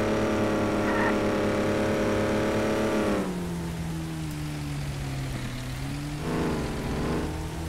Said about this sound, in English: Are you serious? This thing's doing burnouts?